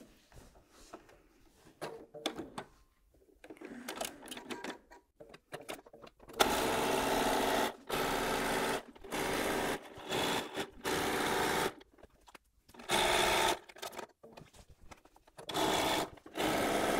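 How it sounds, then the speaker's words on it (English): A sewing machine stitches down the sides of a quilted pillow case in several steady bursts of loud, even whirring, separated by short pauses, with quieter handling and fabric rustle at the start. "I'm going back to the machine to sew down each side."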